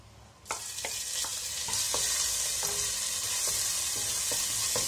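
Crushed ginger and garlic dropped into hot oil with fennel seeds for a green peas curry: a sudden rising sizzle that holds loud and steady, punctuated by repeated spoon clicks and scrapes as the mixture is stirred, no voices.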